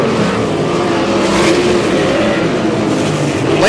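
Sprint car racing on a dirt oval at Humboldt Speedway, a loud continuous engine roar as cars power through the turns, with dense overlapping exhaust noise and no one talking.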